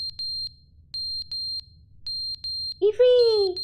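An electronic alarm in The Stanley Parable video game gives short, high, evenly spaced beeps in irregular clusters, then an excited voice speaks over the last beeps.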